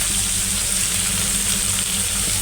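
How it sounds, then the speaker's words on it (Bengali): Okra and potatoes fry in a home kitchen pan, giving a continuous close hissing sizzle with steady crackle and no pauses. "এপাশে ভেন্ডি আলু ভাজাও হচ্ছে।"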